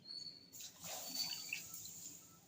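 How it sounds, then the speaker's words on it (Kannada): Water poured into 900 grams of sugar to make gulab jamun syrup, a faint, steady close-up splashing pour that starts after a brief pause and continues to the end. "900 ml ನೀರು ಹಾಕ್ತಾ ಇದ್ದೇನೆ"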